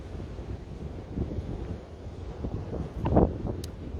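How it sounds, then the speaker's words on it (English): Ocean waves break on a shore under gusting wind that buffets the microphone, a steady low roar with a brief louder surge of surf near the end and no talk. "I'm going to move a little bit further away from the waves."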